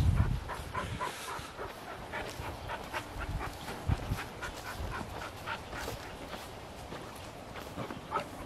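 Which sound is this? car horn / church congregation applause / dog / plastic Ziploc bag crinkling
dog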